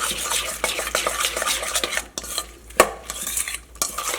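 Egg, onion and salt mixture stirred briskly in a bowl, a busy wet swishing with rapid clicks of a utensil against the sides, close and fairly loud, pausing briefly midway.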